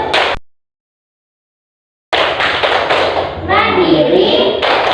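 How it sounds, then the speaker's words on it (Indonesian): Children at a school clap a rhythmic chant with hand movements, sharp claps and chanted voices together, after a brief gap of silence near the start. "Dilakukan dengan tepuk tangan dan juga gerakan."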